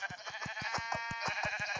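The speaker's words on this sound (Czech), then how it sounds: "Hele, ovce." Sheep bleating in Minecraft, a steady run of repeated short bleats that fill the whole stretch, fairly close and loud, with no talk over them.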